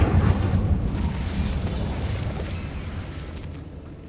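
Incendio fire spell cast in Hogwarts Legacy, a loud rumbling whoosh of flame that starts strong and slowly fades over a few seconds.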